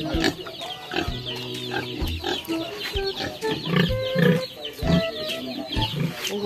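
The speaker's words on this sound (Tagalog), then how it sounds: "Laki po ng inahin." A large sow grunts repeatedly on a rural farm in the Zambales mountains, with chickens clucking nearby; low grunts come in short bursts, close and fairly loud.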